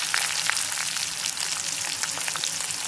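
Chopped onions with bay leaves, green chillies and whole garam masala sizzle in hot oil, a dense, even crackling hiss close by with fine popping throughout.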